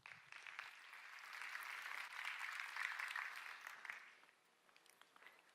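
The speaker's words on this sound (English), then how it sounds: "Please give her a round of applause." Audience applause for a presenter at an event-industry innovation showcase, a steady wash of many hands clapping at moderate distance that swells, holds for several seconds, then thins out near the end.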